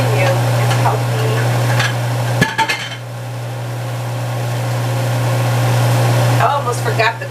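A thick vegan, gluten-free gumbo cooks in a pot, giving a steady low simmering hum with occasional clinks and scrapes of stirring near the start and end, loud and close without talk.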